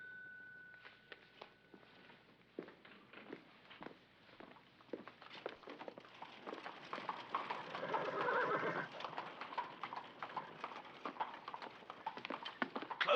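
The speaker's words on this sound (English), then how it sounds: "Closed carriage, Holmes. One man at the reins" Horses pulling a closed carriage with one man at the reins, their hooves clopping steadily throughout while a horse whinnies loudly and clearly, with no talk over it.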